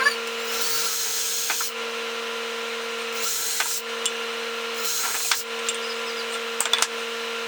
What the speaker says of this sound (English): I'm gonna pre-drill it first with a skinnier one, with a smaller drill.